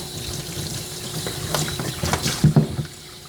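Water splashes and pours while rinsing shampoo off a Coton de Tulear dog during grooming, irregular close splashing that grows louder toward the end.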